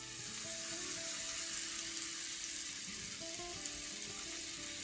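Paneer tikka skewers grilling on a medium flame, a steady close sizzle and crackle of marinated paneer cooking, continuous and even with no talking.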